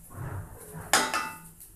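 Dishes and cutlery are handled while food is plated in a family kitchen, with soft shuffling clatter and then one sharp clink of metal on a plate partway through.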